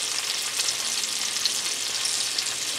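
Bacon frying in a Le Creuset pan, a steady dense sizzle with fine crackling pops throughout, close and even, with no talking.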